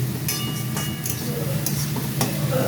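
Onions fry in a pan with a steady, close sizzle and occasional stirring scrapes, loud and continuous with no voice over it.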